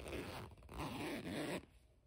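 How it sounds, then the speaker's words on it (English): Zipper on a Burt's Bees 100% cotton wearable blanket being pulled, three quick rasping zips in a row, close and clear, then a brief pause with no speech. "I also wanted to show a close-up of the zipper because it's really sturdy and high quality"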